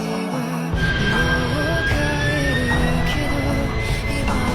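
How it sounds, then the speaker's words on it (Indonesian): A jet airliner bound for Korea takes off from an airport, a loud, sustained roar with a slowly rising whine that starts after a brief quiet moment. "Pesawat tujuan Korea akan segera lepas landas."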